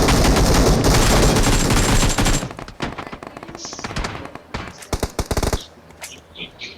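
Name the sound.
gunfire in a shooting video game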